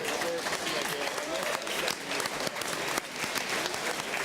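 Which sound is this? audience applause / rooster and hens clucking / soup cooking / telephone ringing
audience applause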